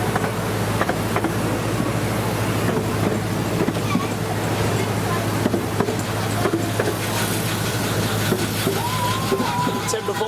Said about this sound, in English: Here's that train carriage.